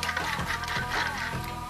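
A coffee thermos holding pasta and hot water is closed with its cap and given a quick shake, producing quiet close mechanical twisting, clicking and a soft sloshing rattle.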